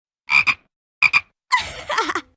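A frog in a Roblox video game gives three distinct croaks, two short double-pulsed calls followed by a longer, warbling one, loud and clear against silence.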